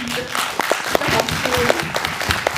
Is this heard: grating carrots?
no